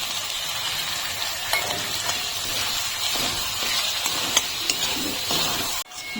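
Mixed vegetables and capsicum sizzling in a pan with spice paste, a continuous loud hiss broken by repeated stirring scrapes and light utensil clinks, then a sudden cut near the end.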